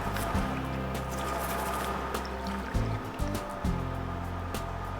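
A brush scrubbing an HVLP spray gun inlet filter in water: a continuous wet swishing and splashing with a low steady hum underneath and a few soft knocks, close and fairly quiet.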